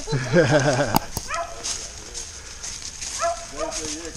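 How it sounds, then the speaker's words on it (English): A hunting dog barking and yelping during a rabbit hunt, with a strained, pitched cry at the start and further yips later, mixed with people talking nearby outdoors. "He jumped up when he heard the dog."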